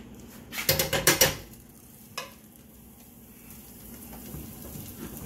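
Butter melts in a hot pan for a creamy garlic chicken sauce, starting with a short loud burst of sizzling and clatter, then a single clink, after which a faint, steady sizzle carries on.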